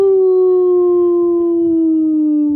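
A person's voice imitates a wolf howl: one long, loud, sustained tone that slowly sinks in pitch, held close for a couple of seconds with no other sound.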